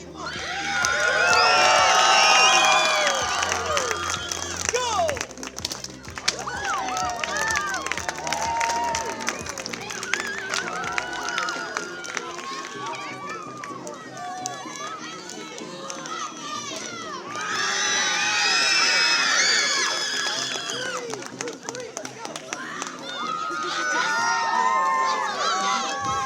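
Cheering and shouting from a crowd with many children's voices at a Taekwon-Do demonstration at the Pittsburgh Zoo, loud and sustained, with bursts swelling near the start and again toward the end.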